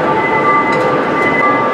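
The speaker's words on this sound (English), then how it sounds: "I wonder who's up there stopping the damn train." A moving train carrying riders, a steady rumbling carriage noise with a constant mechanical hum, heard up close and continuous throughout with no talking.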